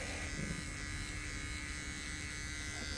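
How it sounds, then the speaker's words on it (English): Small electric dog grooming clipper buzzing steadily at close range, a constant even hum with no pauses. "I really like this little clipper here"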